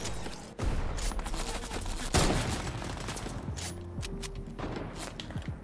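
Video game gunfire in a squads shooter match: rapid bursts and volleys of shots, loud and close, with scattered single cracks and footsteps between them.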